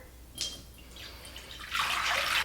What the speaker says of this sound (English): So the first thing that we need to do is add our hot water.